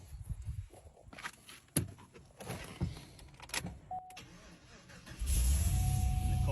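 A car engine said to run on water turns over and settles into a loud, steady rumble near the end, following several seconds of quieter clunks, footsteps and handling noises.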